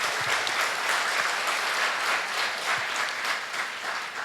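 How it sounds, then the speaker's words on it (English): An audience at a memorial lecture applauds steadily, many hands clapping in a dense, sustained wash from nearby that carries on without a break for several seconds. "Please give a round of applause"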